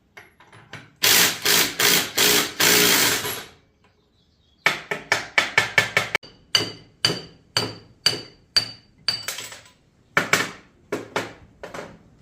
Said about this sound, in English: So we just cut the surge brake right off of that.